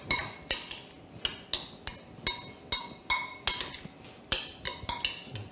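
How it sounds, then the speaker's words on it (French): Sea bream tartare mixed with wasabi in a bowl, a utensil tapping and scraping the bowl in a quick, regular series of light clinks, close and soft, with no one speaking. "On mélange."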